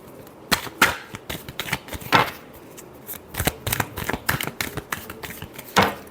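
Tarot cards are shuffled by hand in a series of quick, crisp riffling snaps and flicks, close and fairly quiet, in irregular bursts.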